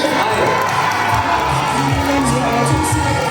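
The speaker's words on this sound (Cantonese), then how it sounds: "俾啲掌聲歡呼聲嚟聽下先。" A crowd of fans at a mall stage event in Hong Kong cheers and shouts steadily, a dense, loud wall of voices with whoops and children's shrieks running throughout.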